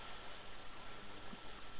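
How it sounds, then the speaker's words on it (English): Flowing water in Minecraft, a faint steady stream-like trickle and gurgle running continuously at low volume with no talk. "So water is set up, sort of."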